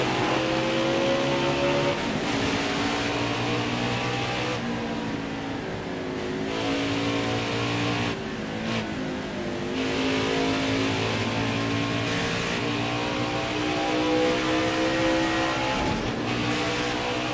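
NASCAR Xfinity race cars roar as a pack on a restart at Phoenix Raceway, a dense, loud wall of engine noise with rising revs and overlapping cars, sustained throughout with no talk.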